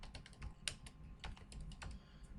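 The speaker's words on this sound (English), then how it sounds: "So you would type some kind of a descriptive title." A descriptive title is typed on a computer keyboard as a quick, quiet run of clustered keystrokes with uneven pauses, close and faint, with no speech.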